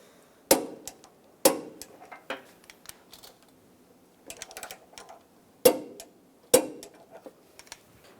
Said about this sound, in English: Now I'm going to torque these two bolts to 118 foot-pounds.